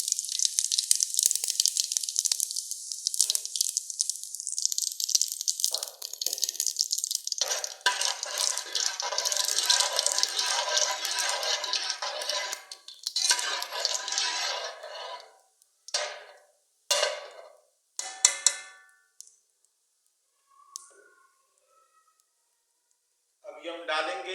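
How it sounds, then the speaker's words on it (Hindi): Cumin seeds hit hot oil in a pan and crackle loudly at once, the bright sizzle holding steady then thinning into sparse bursts of spitting and finally near silence. "ऑयल हमारा गर्म हो गया। जीरा डालेंगे।"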